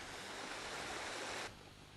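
Rushing river water deep in a Scottish valley, a constant broadband roar that softens slightly near the end.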